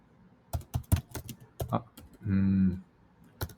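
Keys clatter on a computer keyboard in quick, uneven bursts of close taps, with a short electronic tone sounding partway through.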